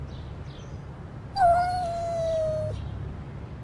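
A single drawn-out, wavering cat yowl rises briefly over a low background hum, lasting about a second before fading.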